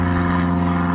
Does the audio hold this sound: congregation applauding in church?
no